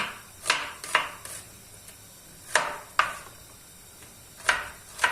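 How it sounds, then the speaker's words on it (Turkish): A knife chops onions on a board in scattered, sharp knocks, a few quick pairs and isolated strikes, close and fairly quiet. "Şöyle soğanlarımızı doğrayalım."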